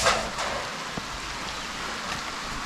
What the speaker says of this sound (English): So it's raining a bit